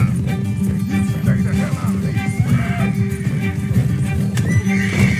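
A horse in Red Dead Redemption 2 lets out a loud, drawn-out whinny that rises and wavers over several seconds, with faint hoof clatter beneath.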